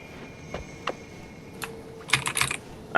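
Keys clack on a computer keyboard in scattered, quiet bursts at first, then a quicker run of typing near the end, with a low room hum underneath.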